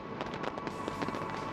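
Fireworks shells launching in a rapid barrage at a stadium display, lifted from long mortars with extra powder over high walls; a continuous run of booming thumps and crackles at a steady moderate distance, with no talk.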